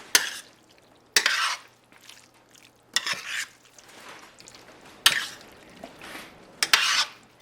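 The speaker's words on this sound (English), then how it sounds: "I'm just going to gently stir it to coat the pasta in this delicious gravy." Pasta being gently stirred and coated in gravy for broccoli stroganoff: a spoon scrapes and clicks against the pan in short separate strokes, with soft sizzling between them.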